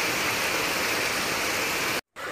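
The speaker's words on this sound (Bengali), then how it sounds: "এই গামলাটায় জল ভর্তি হয়ে যাচ্ছে," Water pours steadily into a basin with a broad, rushing splash, cut briefly near the end before resuming.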